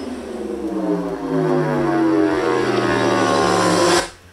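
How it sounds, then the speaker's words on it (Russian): Fighter jets roar past as played through a budget Android projector's built-in speaker, a loud sustained engine rumble with descending harmonic whine that swells and holds before cutting off abruptly. "У нас тут истребители!"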